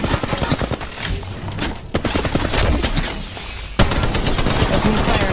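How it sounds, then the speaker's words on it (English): Rapid bursts of gunfire from the Apex Legends Mobile video game fill the clip, with dense repeated shots and short pauses, loud and close, over continuous game sound. "Gun. Opening fire. Shooting down."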